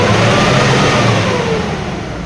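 A Nissan Frontier Navara with a YD25 diesel engine revs hard toward 4,000 RPM, a loud, steady, sustained roar that holds high throughout with no talking.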